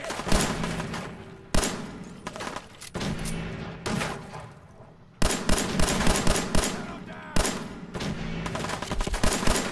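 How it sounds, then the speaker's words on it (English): Gunfire in the video game Fallout 4: repeated loud bursts of rapid shots in several volleys, each starting with a sharp crack and trailing into rattling automatic fire, close and dense. "Who's shooting?"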